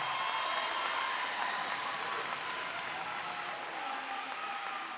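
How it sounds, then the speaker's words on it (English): A graduation crowd gives a steady round of applause, heard fairly faint and distant, a continuous patter of many hands without any talking. "Give them a round of applause."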